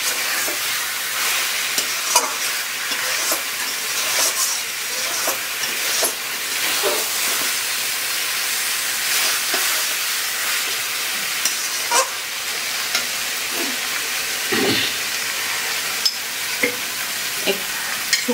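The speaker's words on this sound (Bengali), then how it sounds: "আমি মশলা দিয়ে দিয়েছি। এখন আমি ভালো করে কষিয়ে নিচ্ছি।" Country chicken frying with spices in a pan while being stirred and browned, a continuous close sizzle broken by frequent scraping and clanking of the spatula against the pan, with no talk.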